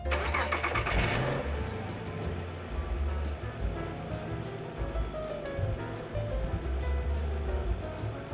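A 2007 Saturn Vue with 352,660 miles, fresh from new spark plugs and coil packs, cranks and catches near the start, then settles into a steady, close idle with a low rumble throughout.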